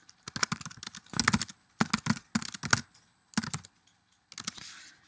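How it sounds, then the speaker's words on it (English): Quick bursts of clattering keystrokes on a computer keyboard, typed close up in short uneven runs separated by brief silences, with no voices. "type whatever and click post"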